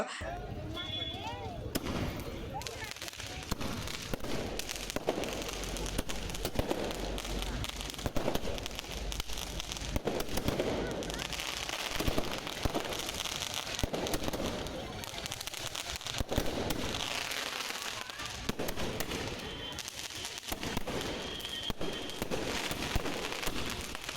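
Firecrackers and fireworks crackle and burst at a wedding procession, with repeated sharp pops close by running nearly without pause over a dense crowd din. People talk throughout.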